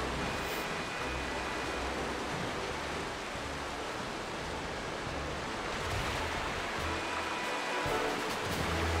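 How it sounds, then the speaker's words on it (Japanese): A long waterfall section in Pokémon Scarlet/Violet gives a steady, dense rush of falling water that runs unbroken for the whole stretch, fairly loud and with no talking over it. "長え滝ゾーン。"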